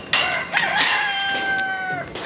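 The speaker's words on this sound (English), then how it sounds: "I keep getting interrupted by the chicken." A rooster crows loudly and close by on a farm where young Kiko goat bucklings are kept, one long drawn-out cock-a-doodle-doo with a falling tail, heard alone without talk.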